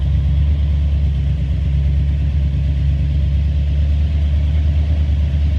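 A truck engine idles steadily, with a deep, even rumble close to the mic that keeps the same level throughout and has no voices over it.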